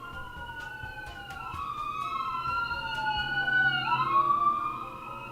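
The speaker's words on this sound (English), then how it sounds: "Oh, sirens, hold on one sec." Emergency vehicle sirens wail and sweep up and down in pitch, growing louder as they pass and then fading, with several overlapping tones and no speech.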